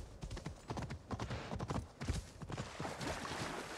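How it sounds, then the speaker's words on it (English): Horse hooves clip-clop in irregular quick beats across damp ground in Assassin's Creed Valhalla, a mid-distance gait over a busy ambient game background with no talking. "Can our horse swim?"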